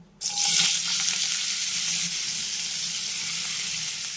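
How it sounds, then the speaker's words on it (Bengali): Large cut and washed potato pieces drop into hot white oil, and a sudden loud burst of sizzling follows. The crackle then settles into a dense, steady fry. "এবার আমি এই তেলের ভিতরে দিয়ে দেবো কেটে ধুয়ে রাখা একটি বড় সাইজের আলু"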